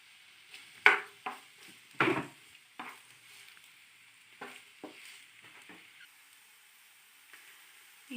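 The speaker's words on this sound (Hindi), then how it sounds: "अब हमें अपनी वेजिटेबल्स को फ्राई करना है।" Vegetables, including carrot, fry in hot oil in a pan for a chicken vegetable lasagna, heard as scattered, fairly quiet scrapes and sizzling bursts with short silent gaps between them.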